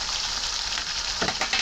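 Beef sizzling steadily in a pan with spices while being stirred for a dry bhuna, a continuous close frying hiss with a few scraping stir sounds near the end.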